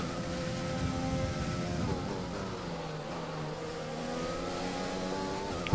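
A race car engine at Spa in a racing sim, revving through gear changes with rising and falling harmonic whine, steady and fairly close, with no talk over it.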